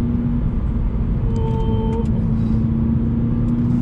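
A Toyota GR86 sports car engine drones steadily while driving on a winding canyon road, a constant low hum with no clear rev spikes, close and continuous with no talking.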